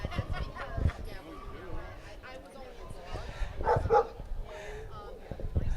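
A dog in a shelter gives a few short barks and yips amid background chatter and kennel noise, with people talking nearby.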